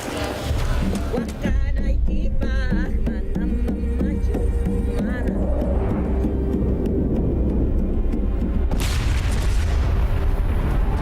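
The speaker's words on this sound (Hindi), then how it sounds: "उधर बम धमाका हुआ है।" A bomb blast in a Hindi-dubbed Hollywood adventure action film: deep booming rumble that rolls on at length, with a second loud burst near the end and faint voices mixed in.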